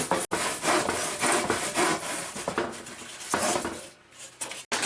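Leftover foam cut to size by hand for trimaran kayak pontoons, a steady close rasping and rubbing that runs almost without pause, broken by a couple of brief gaps.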